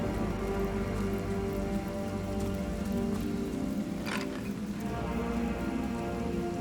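Steady rain falls in the role-playing game Divinity: Original Sin, a dense continuous hiss of drops striking surfaces with a low rumbling undertone, even and unbroken throughout.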